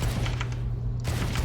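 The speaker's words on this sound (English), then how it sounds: "this is how quickly you should be shooting with a sheriff" Rapid Sheriff pistol shots in Valorant, a steady fast string of sharp cracks over a constant low game hum, with a short gap before firing resumes.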